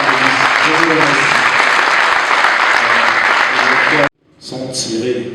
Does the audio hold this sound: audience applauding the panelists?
yes